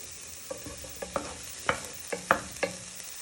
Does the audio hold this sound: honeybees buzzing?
no